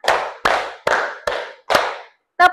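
Five sharp claps in an even rhythm, then a final shorter hit, from a class doing a counted clapping game. The claps are close, loud, and come with no talk.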